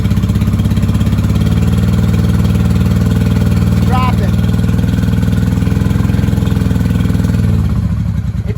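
A 1995 Honda Shadow VLX VT600CD motorcycle engine runs steadily with a loud, close, continuous low rumble, a brief higher whine rising near the middle, and the engine settling toward the end.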